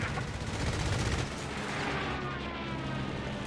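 Rapid gunfire rattles in a dense, continuous barrage as a World War II Sherman tank is strafed in a real-time strategy game, with explosions and battle noise layered throughout.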